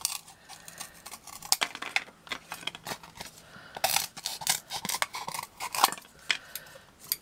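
Sharp scissors snip repeatedly through craft material for a lace caddy, making irregular close crisp cuts with small clicks and rustles between them, and no talking.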